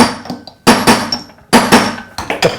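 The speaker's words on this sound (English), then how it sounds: "You can then get your hammer. You can start to hammer" A hammer strikes doming punches set in a doming block to shape a piece of silver, giving sharp metallic blows in uneven clusters with ringing decay, close and loud, with no talk.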